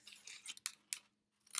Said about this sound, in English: with your scissors and on your cardboard, you want to cut 8 slits around the edges